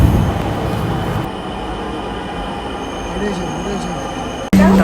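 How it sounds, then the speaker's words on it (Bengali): A metro rail train arrives at an elevated station platform, with a steady broad rumble and hum of the train running close by for several seconds, background talk mixed in, then an abrupt cut to a different loud tone near the end. "হয়তো মেট্রো রেল চলে এসেছে"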